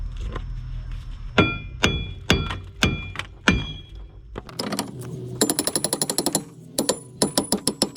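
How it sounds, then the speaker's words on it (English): Hammer blows on a brake rotor of a 2004 Lexus ES330, first several sharp, ringing metallic strikes spaced about half a second apart, then a rapid burst of lighter clanking taps, all close and loud. "Next, we're going to remove the rotor by hitting it with a hammer."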